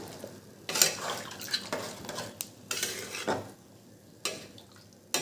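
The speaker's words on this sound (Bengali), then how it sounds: "একটু খুন্তি দিয়ে নেড়ে নিই, দেখে নিই আর জল দিতে লাগবে কি না।" A metal spatula stirs mutton in a pressure cooker after water has been added, giving several distinct scraping, clattering strokes against the pot, close and fairly loud, separated by short pauses, with no speech.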